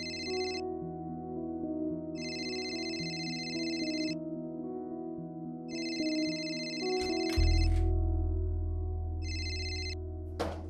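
A phone ringtone repeats in regular electronic bursts over a soft musical background, moderately loud and alone with no talk, in a domestic scene from a Marathi TV serial.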